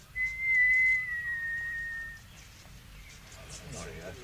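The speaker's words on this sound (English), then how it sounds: "I'll give a whistle, if I may." A single sustained whistled note holds steady for about two seconds, fairly clear against a low background rumble, then fades into quiet shuffling.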